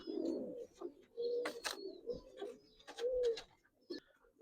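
Giribaz hurricane pigeons coo close by in a quiet space, several throaty, rolling coos in sequence with short pauses between, alone without talk.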